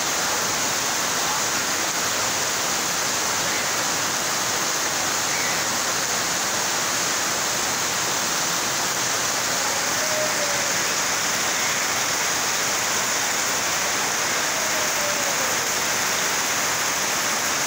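Heavy torrential rain pours in a dense, unbroken roar, steady and close throughout with no voices.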